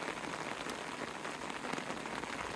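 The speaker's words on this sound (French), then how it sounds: "La pluie ne devrait pas durer longtemps." Dense, steady rain pattering on the surface of a mountain pond, an even hiss of countless drops at moderate, fairly quiet level with no voices.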